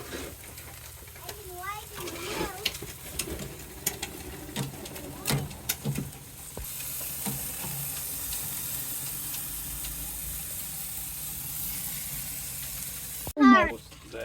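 Steak and bratwurst sizzle on a grill with a steady broadband hiss, partly masked by voices talking nearby and a few outdoor bird calls.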